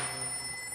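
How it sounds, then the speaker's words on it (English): A telephone bell rings steadily in a tense film trailer scene, a continuous bright ringing held at moderate level throughout the short stretch with no voices over it. "that phone over there is gonna ring"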